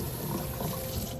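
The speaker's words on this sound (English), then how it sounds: "The hot water feels so good." Hot water runs steadily from a tap into a sink, a close, continuous splashing hiss with no breaks and no talking.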